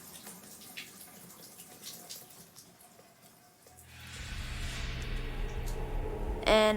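A shower runs steadily after a quiet stretch and turns into a broad, continuous hiss of falling water that stays up close and even until the end.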